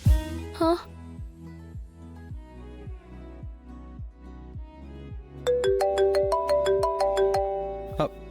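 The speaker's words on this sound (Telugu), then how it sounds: "అమ్మా రింగ్ అవుతుంది" A phone ringtone plays a repeating electronic melody, loud and close, with a steady rhythmic pattern over a low background tune.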